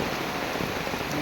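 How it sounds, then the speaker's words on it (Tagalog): Heavy typhoon Enteng rain in Sorsogon pours down in a dense, continuous hiss, loud and unbroken over the whole short stretch. "talagang malakas ang ulan"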